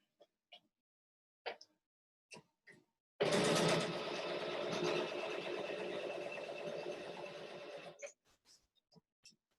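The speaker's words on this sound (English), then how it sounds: "I'll just stitch this one together." A sewing machine stitches quilt pinwheel blocks together in a steady, loud, close whirring run of about five seconds. Scattered soft handling clicks come before and after it.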